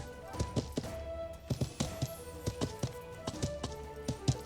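Horse hooves clip-clop in a steady, moderately quick rhythm of soft thuds as a rider travels uphill in the medieval game Life is Feudal, close and fairly quiet over low ambient background.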